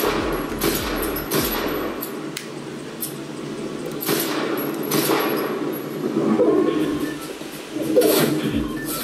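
Rapid gunfire from the Fortnite video game, played on a Flydigi Vader 3 Pro controller, cracks in several quick bursts over ongoing game background noise.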